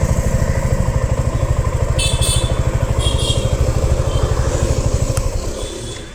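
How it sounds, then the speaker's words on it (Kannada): Suzuki SX 250 motorcycle engine running at a steady idle, a close, even rapid thumping pulse throughout with faint clicks and rattles over it, easing slightly at the end. "ಈಗ ಗಾಡಿ ಸ್ಟಾರ್ಟ್ ಮಾಡಿ ತೋರಿಸ್ತೀನಿ ನಿಮಗೆ."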